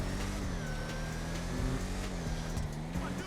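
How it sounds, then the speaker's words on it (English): Classic muscle car in GTA Online with a steady engine drone and a high supercharger whine rising in pitch, sustained and fairly quiet throughout. "You can hear that supercharger whine."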